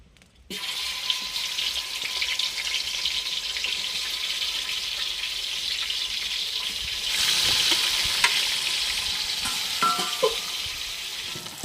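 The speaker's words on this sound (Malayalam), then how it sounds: "ചിക്കൻ നമുക്ക് ചെറുതായിട്ടൊന്ന് ഫ്രൈ ചെയ്ത് എടുക്കുക" Chicken pieces half-frying in hot coconut oil in an uruli pan give a steady, close sizzle with occasional stirring clatter, and the sizzle swells louder partway through.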